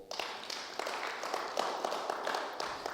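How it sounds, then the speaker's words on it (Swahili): Church congregation applauding for Jesus during a Swahili sermon, a dense steady wash of many hands clapping together, close and sustained for the whole stretch with no voices over it. "Pigie Yesu makofi."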